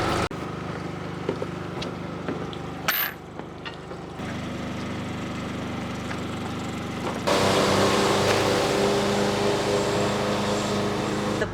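A small outboard motor on a dinghy drones steadily through the ride, a low continuous engine hum that grows louder and brighter partway through, with water and wind noise around it.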